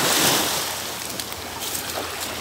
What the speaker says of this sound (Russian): Иду я такой, значит, вдоль берегового прибоя. Тишина, спокойствие, теплынь, народу никого, море волнуется.